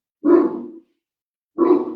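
A dog indoors barking twice, deep, loud and close, with a pause of about a second between the two barks and silence around them.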